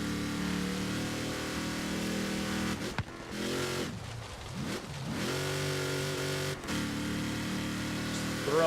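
A trophy truck engine at full throttle in third gear in Forza Horizon, a sustained loud roar with steady pitch, briefly dropping and sweeping back up in revs midway before holding high again.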